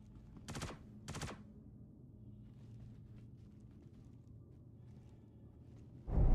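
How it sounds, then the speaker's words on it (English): Two short bursts of automatic gunfire from guards in the Star Citizen video game, fairly close and spaced about half a second apart, followed by quiet ambient hum and a louder rumble rising at the end. "did I just hear one of the guards shooting?"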